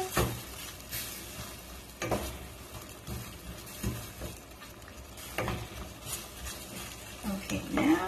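Sauce sizzling in a pan for a ginger and scallion lobster noodle dish while a utensil stirs it, with a continuous crackle broken by repeated scraping strokes and occasional utensil clinks, and quiet speech in the background.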